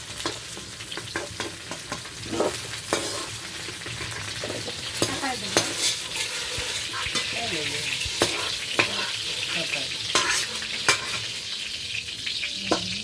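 Vegetables lightly fry in oil in a pan on a clay village stove, a steady soft sizzle broken by scraping stirs and small clinks, with no talk.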